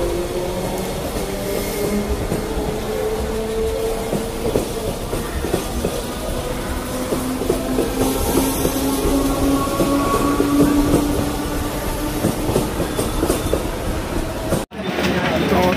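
A Mumbai local train runs on steady wheel rumble with rhythmic clickety-clack, squealing tones and a brief drop near the end, with some voices under the rail noise.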